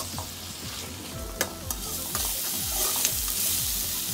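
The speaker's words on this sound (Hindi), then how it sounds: "इसे भी हल्का मीडियम फ्लेम में 2 मिनट तक फ्राई कर लेंगे।" Mushrooms, capsicum and onion fry in refined oil over a medium flame, giving a steady close sizzle broken by a few sharp clicks and scrapes of stirring, with no voices.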